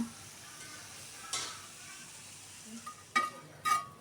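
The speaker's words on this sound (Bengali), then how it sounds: "এখন এই ফ্রাই প্যানে আমি মরিচগুলো ভেজে নিব" Soft, low sizzling of chilies frying in a pan runs throughout, broken by a few clinks and scrapes of a utensil stirring.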